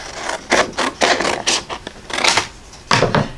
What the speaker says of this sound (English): And I'm just going to grab a pair of scissors because it's quicker.